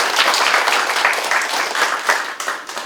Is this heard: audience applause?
yes